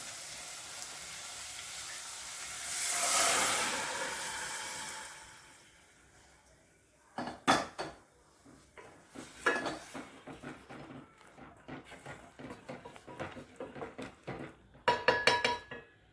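Chickpeas tip into a pot of frying tomatoes for a chickpea curry. A soft sizzling swell comes first, then a spoon scrapes and clinks against the pot in irregular bursts as the mixture is stirred. The sounds are close and fairly quiet.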